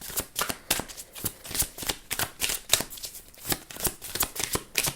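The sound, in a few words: shuffling a deck of reading cards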